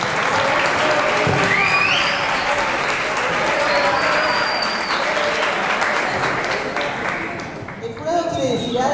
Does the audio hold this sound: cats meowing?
no